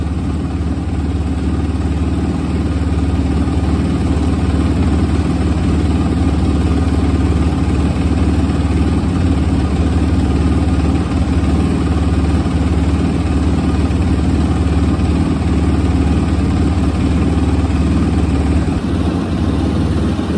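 A carbureted 2006 Suzuki RMZ250 dirt bike engine idles close and loud, a steady low rumble with a rapid mechanical clatter that holds even throughout.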